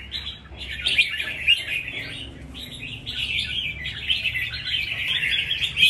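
A caged red-whiskered bulbul hung outdoors calls in a rapid run of bright chirps and warbled phrases, close and fairly loud, repeating with short gaps and no voices.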